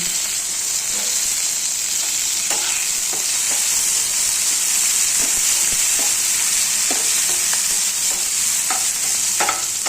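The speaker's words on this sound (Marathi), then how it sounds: "ब्राऊन कलर व्हायला लागलेला आहे कांद्याचा. आणि आता त्याच्यामध्ये टोमॅटो टाकून घ्यायचा." Tomatoes tipped into browned onions with garlic and green chilli frying in a pan, giving a steady close sizzle under repeated scraping stir strokes that run the whole time, with no talk.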